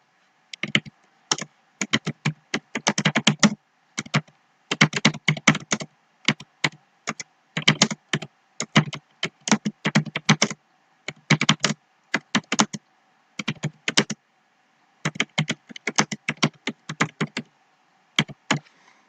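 Typing on a computer keyboard while filling in a spreadsheet: close, crisp key clicks in quick irregular bursts with short pauses, steady through the whole stretch and heard alone.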